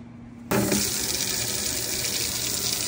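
Tap water gushes into a swamp bucket heater, starting abruptly after a brief quiet moment and then running steadily and loudly to the end.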